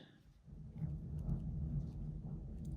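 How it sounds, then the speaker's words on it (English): A summer thunderstorm rumbles outside as a low, steady roll of thunder and rain noise, moderately loud and continuous throughout with no voices. "a nice summer thunderstorm"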